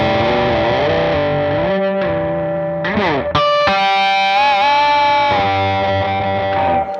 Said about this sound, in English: then you start to add a volume swell